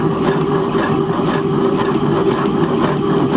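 A hot air engine with a stainless steel tube and solid stainless bar running through a linear bearing gives a steady, loud, continuous mechanical hum and whir, heard close and unchanging throughout.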